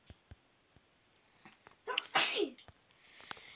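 One close, sharp sneeze bursts out in a quiet room after a few soft knocks, and faint shuffling follows.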